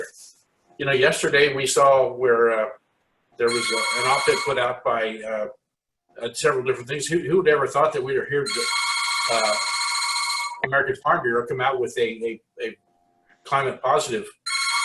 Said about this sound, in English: So I apologize for the phone.